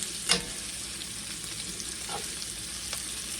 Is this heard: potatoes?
yes